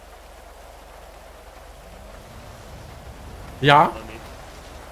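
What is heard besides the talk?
rain falling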